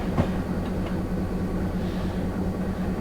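Steady rumble of a moving train in Train Simulator, a continuous low drone with faint rhythmic clatter, close and unbroken throughout.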